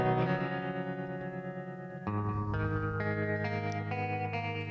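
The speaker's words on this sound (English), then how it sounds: "What I've done to get that tremolo sound, just turn it up a bit." Electric guitar played through a Faceman amp with a tremolo effect, giving a slightly dirty clean tone. Full, sustained chords ring out continuously, with a chord change midway and a steady, washy texture throughout.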